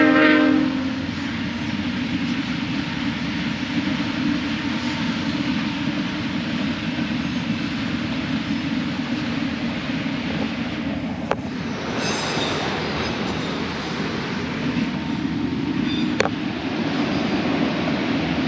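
A train rumbles past steadily, loud and near, during a river canoe trip close to a pickle factory. Its horn sounds in short blasts about two thirds of the way through.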